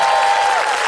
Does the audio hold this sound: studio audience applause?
yes